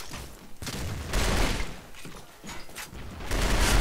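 SCAR-L assault rifle bursts in the online shooter Arctic Combat, loud rapid gunfire in repeated bursts of roughly a second each with brief gaps, close and dominant with no talking.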